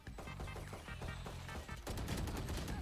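Rapid gunfire in a tactical shooter video game, bursts of sharp shots crackling in quick succession, growing denser and louder toward the end with no speech.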